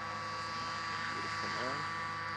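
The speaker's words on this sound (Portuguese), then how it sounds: "Diminuindo um pouquinho o motor." A light airplane's engine drones continuously inside the cockpit as it is throttled down on a landing approach at Santa Cruz do Rio Pardo, a steady hum with tonal whine, while people talk over it.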